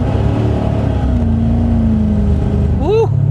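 A 1985 Chevy Corvette engine, pulled from a Florida swamp, running loud and rough up close, its drone dipping slightly before a brief revving burst near the end.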